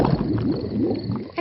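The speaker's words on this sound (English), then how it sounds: "My tummy rumbling is one of the best sounds of nature" A cartoon pig's stomach rumbling at night in a short, low, gurgling, liquid-sounding growl, heard close up with no talking.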